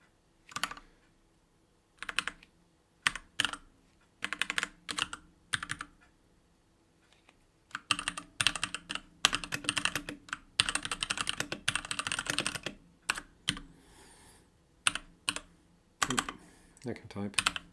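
Fingers type on a computer keyboard in irregular bursts of close, crisp key clicks separated by short pauses, with denser stretches of rapid typing in the middle.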